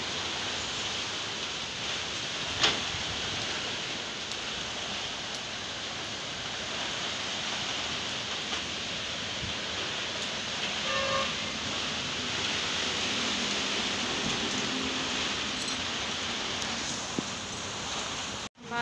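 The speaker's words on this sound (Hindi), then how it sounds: "बहुत तेज बारिश है" Heavy rain with big drops and strong wind pours in a steady, dense hiss in a village, constant and enveloping, with an occasional faint knock beneath it.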